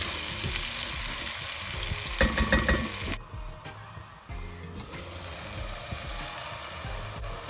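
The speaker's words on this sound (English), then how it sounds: "So I want to just let it cook down before I add the other ingredients." Jambalaya ingredients sizzle and fry in a pot, a loud close crackle with stirring scrapes and clatter, easing briefly before the hiss settles back in.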